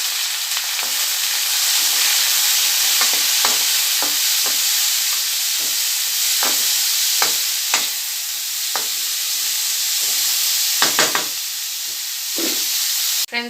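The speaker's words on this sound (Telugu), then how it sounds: "తాలింపు మగ్గిన తర్వాత గోచిక్కుడుకాయలు వేసాం ఫ్రెండ్స్." Cluster beans frying in a pan of tempering with turmeric and salt for sambar, a loud, steady sizzle with repeated sharp clicks and scrapes of stirring, no voices.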